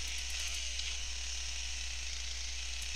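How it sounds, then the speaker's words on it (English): Chainsaw in the video game GTA Vice City, a continuous buzzing whine with a raspy high edge, steady and loud throughout without speech. "I just chainsawed some people."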